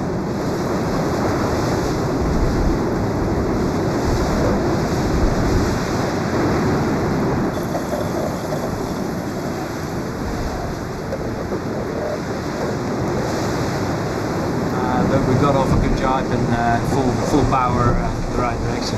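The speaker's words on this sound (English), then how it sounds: "the waves are huge and it's hard to control the boat" Big ocean waves surge and crash around a racing yacht in the Volvo Ocean Race 2008-09, with constant wind buffeting the microphone and a rushing, roaring wash that swells and eases.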